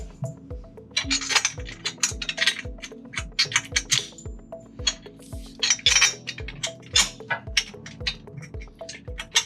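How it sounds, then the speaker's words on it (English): Carriage bolts are lined up and pushed through square holes in metal parts, producing a string of sharp metallic clinks and taps at an irregular pace, some clustered and some spaced apart. "So you're just lining up the carriage bolts with the square holes."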